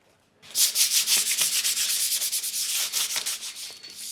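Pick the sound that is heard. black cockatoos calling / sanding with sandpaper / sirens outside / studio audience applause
sanding with sandpaper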